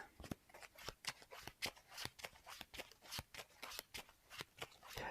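Playing cards for the Marvel Champions card game are shuffled in a steady run of quick, close riffling flicks, soft and alone.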